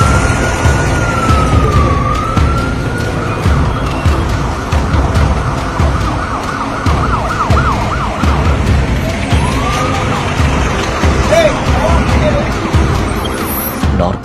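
An ambulance siren wails continuously nearby, sweeping up and down in a fast yelp pattern over loud, steady traffic noise.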